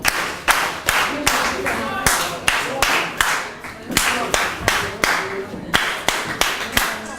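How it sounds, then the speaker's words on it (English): Audience at a 4-H dinner plate competition awards gives a rhythmic group clap, sharp unison claps repeating in a steady patterned beat, close and loud, with voices murmuring underneath. "I think they deserve this long 4-H clap."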